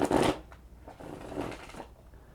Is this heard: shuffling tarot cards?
yes